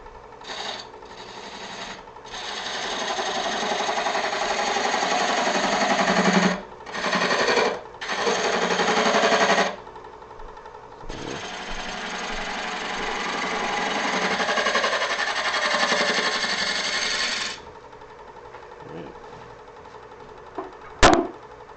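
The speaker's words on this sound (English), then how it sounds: "I'm going to take my spindle gouge and I'm going to cut my dovetail" A spindle gouge cuts a dovetail into wood spinning on a lathe, making loud sustained scraping and whirring passes broken by short pauses.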